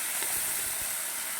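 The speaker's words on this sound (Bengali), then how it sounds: "সবগুলা মাছ দিয়ে দিচ্ছি, এবার ভেজে নেব" Fish frying in hot oil, a steady dense hissing sizzle with a few soft pops, heard close and alone.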